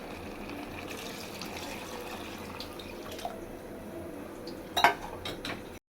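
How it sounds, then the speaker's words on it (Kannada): Water is poured into a pot of rice for chicken biryani, a faint, steady splashing fill, with a brief metallic clink of the vessel near the end and no talk. "ನೆಕ್ಸ್ಟು ವಾಟರ್ ಹಾಕ್ಕೊಳ್ಳೋಣ."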